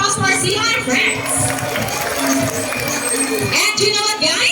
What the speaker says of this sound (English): How about applause for our sea lion friends?